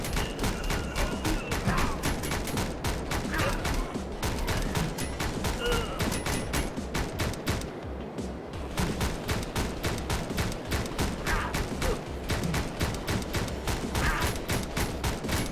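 Steady bursts of gunfire from the video game Speed Limit rattle on continuously, loud and evenly spaced, with only a brief pause midway.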